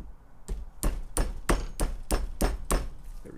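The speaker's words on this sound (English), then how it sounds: "We're going to utilize the same process of tapping with a brass hammer to get it to start." A brass hammer taps a snap ring into a vehicle U-joint: eight sharp metallic blows at a steady, slightly quickening rhythm, close and clear with no talking.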